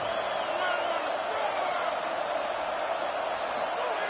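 Stadium crowd roaring at a Texas Tech football game on third down, a dense, steady wall of cheering and noise heard throughout, with a commentator's voice over it.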